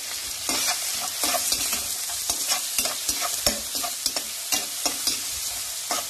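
Onion with ginger and garlic sizzles and fries in a pan, a steady loud hiss broken by repeated scraping stirs close by, with no voices.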